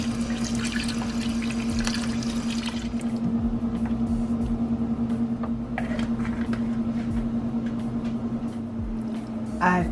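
Water is poured from a can into a crockpot holding beef bones for soup, making a steady close splashing and trickling pour over a constant low hum, ending with a brief clunk.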